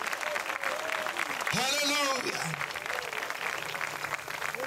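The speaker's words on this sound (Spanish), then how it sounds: "Dele fuerte ese aplauso al Señor en esta tarde." Church congregation applauding steadily during a Spanish-language evangelical union service in El Salvador, the clapping running throughout while a preacher's voice speaks and calls out over it.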